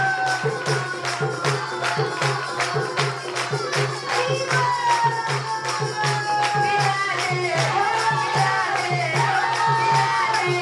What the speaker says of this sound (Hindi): ताली बजाओ सारे बच्चे, ताली बजा के सारे बच्चे।